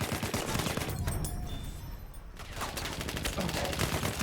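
SMG08 submachine gun in Battlefield 1: rapid, dense automatic bursts rattle almost throughout, with a brief lull in the middle before firing resumes amid game noise.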